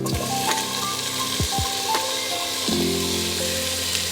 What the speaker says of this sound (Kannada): ಚೆನ್ನಾಗಿ ಗೋಲ್ಡನ್ ಬ್ರೌನ್ ಆಗೋ ತನಕ ಈರುಳ್ಳಿನ ಫ್ರೈ ಮಾಡಿ